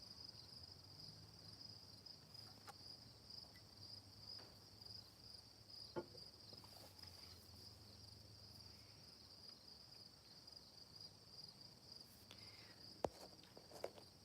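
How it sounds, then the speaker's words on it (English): Steady high-pitched cricket chirping fills the background at an end-of-summer lakeside evening, a continuous outdoor drone with a few faint scattered taps and rustles. "I'm just getting into listening to the crickets"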